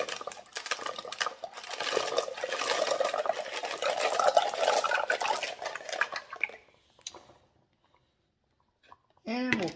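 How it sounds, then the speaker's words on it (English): Mexican crazy lace rocks dumped into a tumbler barrel already holding water, a rattling, clattering rush of stones and splashing lasting several seconds, then fading to near silence before a voice starts. "We'll get our rocks dumped in."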